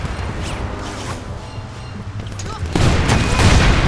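Gunfire aimed at police in the open-world action game Crackdown on Xbox Series X, a stretch of rumbling shots and booms that grows louder and denser toward the end, with voices talking underneath.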